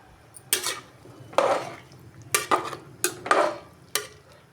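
A spoon scrapes and knocks around inside a metal pot of veg pulao with ghee in a few uneven bursts, close by, with no talking.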